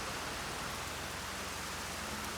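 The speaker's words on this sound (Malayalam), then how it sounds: "മഴ കൂടി ഇങ്ങനെ മഴ പെയ്യുമെന്ന് പ്രതീക്ഷിച്ചില്ല സൂപ്പർ മഴ" Steady, dense rain pours down without pause, a broad hissing wash of water with no voices.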